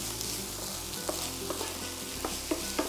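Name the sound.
bacon and onion frying in a pan, being stirred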